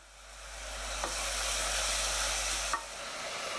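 Tomato pasta sauce with oregano, basil, sugar and salt hisses steadily in a pot as it is stirred, a continuous close sizzle with a couple of soft knocks from the spoon.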